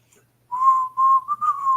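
A person whistles a short tune close up, in a few wavering sustained notes broken by brief pauses, thin and a little unsteady, with no talking.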